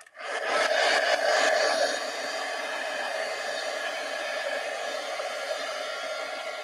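A hair dryer blows steadily over liquid inks on an art journal page. The roar is loud and close, a little stronger in the first two seconds, then settles into an even whir for the rest.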